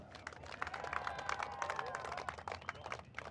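A distant crowd claps and cheers at a no-prep drag racing event, with faint, scattered clapping and a few whistles heard from far off, fairly quiet throughout.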